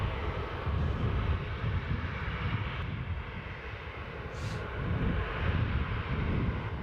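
A Jet2 airliner at Newcastle airport gives off a steady, broad roar of engine noise that holds for several seconds with slight swells. There is some wind rumble but no voices.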